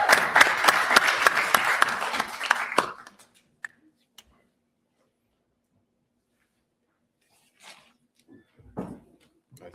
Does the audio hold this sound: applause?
yes